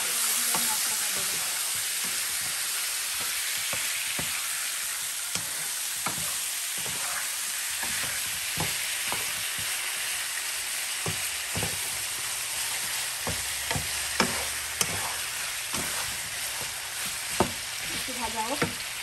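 Chicken pieces sizzle in hot oil for a home chicken curry, a constant crackling hiss close by, with occasional sharp knocks of a spatula turning them.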